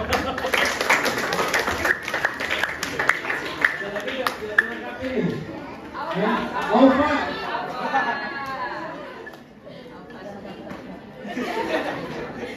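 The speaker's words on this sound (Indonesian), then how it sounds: "Tepuk tangan dong." A crowd claps and chatters together at an Islamic boarding school arts performance for National Santri Day, with the clapping strongest early on and then fading into overlapping voices and light laughter.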